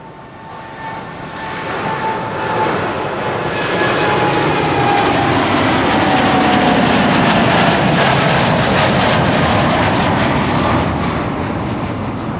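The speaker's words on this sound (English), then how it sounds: "So, KLM flight 789, a Boeing 789." A KLM Boeing 787-9 jet airliner at Amsterdam Schiphol Airport passes with a broad roaring engine noise that swells steadily and stays loud, heard from outdoors with no talking.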